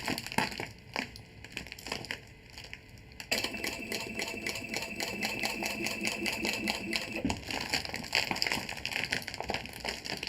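A sewing machine stitches fabric around a curve in a continuous rapid mechanical clatter, louder and steadier after a brief slower start, with no talk over it.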